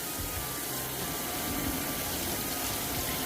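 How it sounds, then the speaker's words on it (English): Hands washed under a running stream of hot tap water, a steady, continuous rushing gush heard close and unbroken throughout. "when you wash your hands, use hot water"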